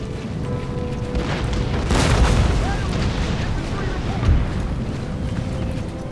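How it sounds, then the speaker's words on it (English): Artillery firing during a battle in Empire: Total War, with two dull booms about two seconds apart over a constant low battlefield rumble, partly under a narrator's voice. "my artillery's starting to fire now"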